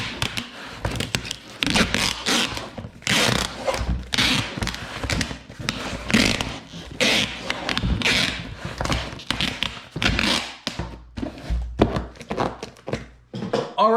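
Strong packing tape pulled and pressed along the seam of a cardboard box packed with a golf iron set, with ripping screeches, taps and scraping handling noises that come in close, uneven bursts.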